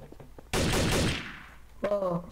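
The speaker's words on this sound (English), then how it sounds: "I think it's an M16." A burst of M16 gunfire in Halo 2 on a TTT multiplayer map: one loud, sustained, broadband blast that rings out for about a second, then fades, after which a voice comes in over the tail.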